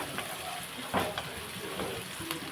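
Eggplant pieces frying in a curry pan with peas, a soft steady sizzle broken by a few scrapes and clinks of stirring, close and fairly quiet, no talking.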